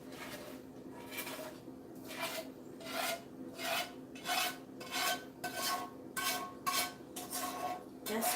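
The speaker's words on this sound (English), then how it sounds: "scraping sound is so satisfying" A utensil scraping a pan of candied yams, rhythmic rasping strokes repeating roughly every half second, close and steady with no voices.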